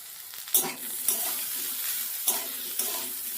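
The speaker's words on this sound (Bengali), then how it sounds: "আলু বেগুনটা হালকা লাল লাল করে ভাজা হয়ে গেছে।" Potato and eggplant fry in a pan with a steady crackling sizzle, broken by a few louder scraping stirs at irregular intervals.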